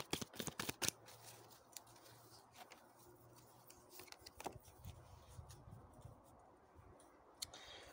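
Tarot cards being shuffled, a soft run of papery flicks and riffles with scattered clicks, faint and close, with no talking.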